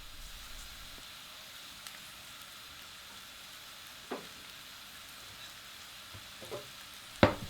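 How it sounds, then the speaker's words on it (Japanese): Sliced onions frying gently in melted butter in a pan, a soft steady sizzle with faint crackles and a few small clicks and taps of utensils, no voices. "バターがよく溶けたところにエマンスにしたオニオンを入れます"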